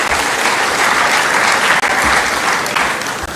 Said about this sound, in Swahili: Mwapigie makofi